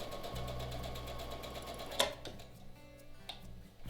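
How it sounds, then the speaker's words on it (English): A sewing machine runs fast, stitching quilt pieces placed right sides together with a quarter-inch seam for a mini Santa quilt, a close, steady rhythmic whir that stops abruptly midway and is followed by a few light clicks. "we're going to sew this 1/4 inch as always and get this sewed"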